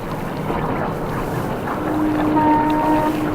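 Steamship at sea in a radio drama sound effect: a steady wash of water and wind against the hull, with a low engine rumble and a faint ship's whistle tone holding in the second half, no voices.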